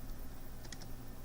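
Someone types a command on a computer keyboard at a desk: a few faint, quick key clicks over a low steady hum, with no talking.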